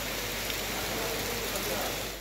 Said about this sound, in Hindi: लाहौर में सुबह से होने वाली मूसलाधार बारिश से जल थल एक हो गया